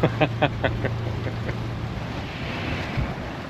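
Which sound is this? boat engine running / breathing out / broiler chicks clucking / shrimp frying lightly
boat engine running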